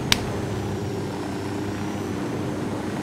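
A helicopter in the video game Ghost Recon Wildlands drones steadily with a continuous rotor and engine hum that stays constant throughout, heard alone.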